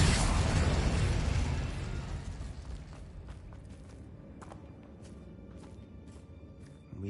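An Incendio fire spell cast in Hogwarts Legacy bursts with a loud fiery roar that dies away over about two seconds, followed by quieter crackling and clicking.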